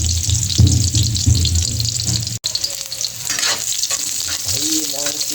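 Chopped onion hitting hot oil in a small amount of cooking fat, a loud close sizzle with stirring scrapes, settling into a steady frying crackle.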